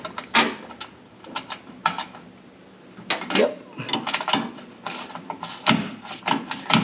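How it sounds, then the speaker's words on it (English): A wrench works on nylon stop nuts while a chain drive is being installed, giving a run of close, irregular metallic clicks and ratcheting clatter in uneven bursts. "Wrench."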